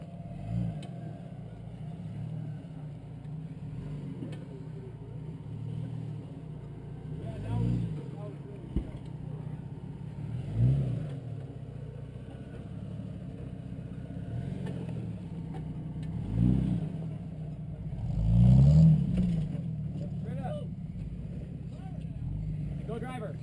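An off-road vehicle crawls over Slick Rock Trail, its engine a low, steady rumble that swells with several revving surges, the strongest near the end, with voices intermittently nearby.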